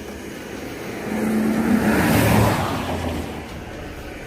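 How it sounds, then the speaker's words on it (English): A car approaches, swells to a loud whooshing pass, then fades away, leaving a quiet background of road noise. "The sound of an approaching engine turns out to be nothing more than oncoming traffic."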